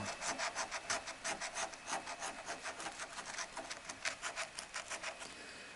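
Scratch-card lottery tickets being scratched, a rapid rhythmic rasping of short strokes repeated steadily for several seconds, close and fairly quiet.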